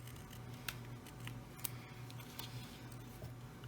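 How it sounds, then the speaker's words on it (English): Scissors snip a paper bookmark, a handful of quiet, sharp clicks spaced irregularly over a soft background hum. "We're going to take our pair of scissors."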